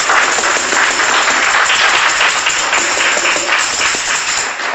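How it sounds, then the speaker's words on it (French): Church congregation applauding at a Eucharist gathering, steady dense clapping from many hands, loud and close, running continuously without pause. "Vous n'avez pas bien applaudi"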